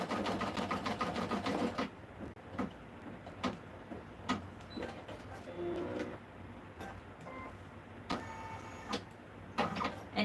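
Machine stitching an icing strip design, in bursts of rapid mechanical whirring that start and stop with short pauses and clicks, faint and close.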